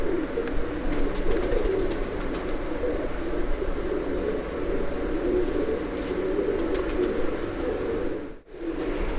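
Soft red-eyed pigeon cooing and fluttering in an enclosed loft in Pakistan, with a steady low hum in the background and a brief dip near the end.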